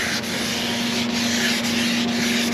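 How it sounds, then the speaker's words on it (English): Steady close sanding of a primer guide coat on an outboard motor, a continuous even rasp with a faint hum underneath and a few slight stroke pulses, no voices. "sand a little more till we're got some of that guide coat blended in"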